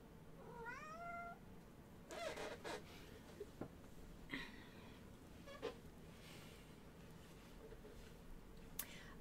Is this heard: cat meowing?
yes